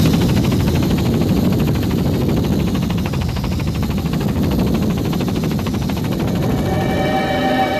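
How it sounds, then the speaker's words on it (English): An open helicopter flying over Hurricane Andrew damage gives a continuous, close rotor and engine drone with a fast rhythmic chop throughout, loud and steady with no voices. "We were in an open helicopter, so it was very clear to see."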